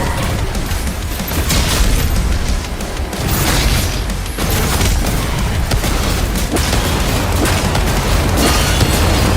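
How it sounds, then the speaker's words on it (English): Rocket launcher blasts in DOOM: The Dark Ages pound without pause, a loud dense wall of booming explosions and crackling combat noise that barely lets up. "Oh, we can use the rocket launcher."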